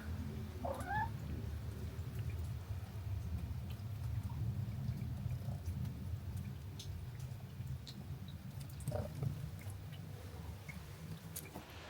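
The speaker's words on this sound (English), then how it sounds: "we have a ginger cat running around the floor here" A ginger cat moving around a floor indoors gives a short meow near the start, set against a steady low rumble of rain or background noise, with a few faint scuffs and small sounds after it.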